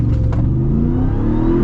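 A 2021 Ram TRX pickup engine roars at full throttle, a loud, close, rising rev heard alone for a moment.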